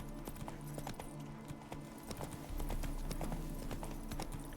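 A horse galloping in the video game The Witcher 3: Wild Hunt, with rapid rhythmic hoof clip-clops over a bed of game ambience, close and steady, getting denser partway through.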